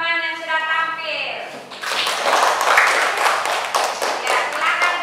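A classroom bursts into applause for a classmate who has just performed, lively clapping from many hands that starts after a woman's spoken line and continues steadily to the end.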